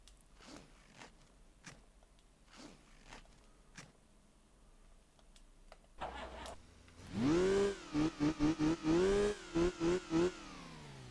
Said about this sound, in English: That's my inline 2 engine.